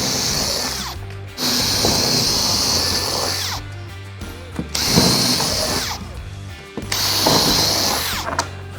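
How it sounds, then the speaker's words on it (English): A power drill bores through two thicknesses of board while building a Cropper Hopper bin, loud close bursts of high whine in three long passes with short pauses between, no talking. "I'm going to drill that one through 2 thicknesses of board"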